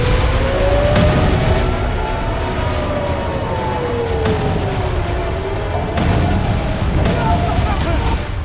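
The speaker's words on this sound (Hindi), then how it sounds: "ईरान पर बमों की बौछार।" Bombs exploding during a bombardment on Iran: a few sharp, heavy blasts burst out of a constant roar while a wailing siren rises and falls throughout.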